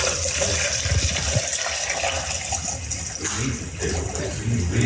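Fuel gushes and splashes into a race car's 5-gallon fuel tank, a steady close liquid pour with churning and bubbling throughout.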